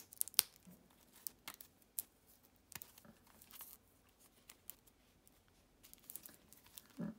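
Paper or plastic wrapping around a tarot card deck being torn open, with scattered crinkles, rips and soft snipping sounds, close by and fairly quiet, coming in irregular bursts.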